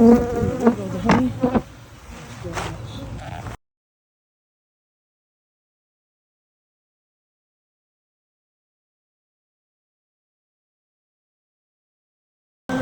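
Dense insect buzzing from many honeybees around a hive being removed from a house, loud and close for a few seconds, then the sound cuts to silence.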